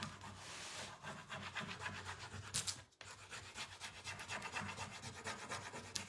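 A transfer tool rubbed over a stamp transfer laid on wood makes steady, close scraping strokes in a continuous back-and-forth rhythm, with a brief pause midway before the rubbing resumes.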